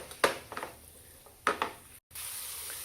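Soybeans stir-fried with kasuri methi in a pan, with a few sharp scraping and clinking strokes of a spoon against the pan over a faint, steady sizzle. After a short break, a louder hiss continues.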